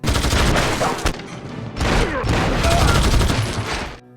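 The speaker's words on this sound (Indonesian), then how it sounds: "sekelompok penjahat yang diam-diam keluar dari persembunyian mereka dan sialnya mereka berhasil menembak Lee" Dense gunfire from an action film shootout, loud, sustained volleys of rapid shots with a brief gap near the middle and a few sharp single cracks, ending abruptly.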